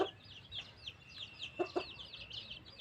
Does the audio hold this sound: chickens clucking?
yes